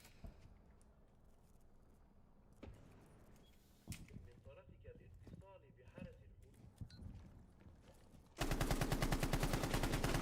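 Rapid gunfire from the tactical shooter Rainbow Six Siege, scattered sharp shots and clatter at first, then a loud sustained burst of automatic fire for the final two seconds, with quiet voices underneath.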